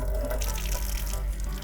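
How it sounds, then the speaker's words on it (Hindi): Water runs from a tap in a steady, soft splashing stream while hands are washed with Savlon hand wash in a home kitchen, quiet and close with no talking. "मैं दोबारा से सेवलॉन से हैंड वॉश करूंगी"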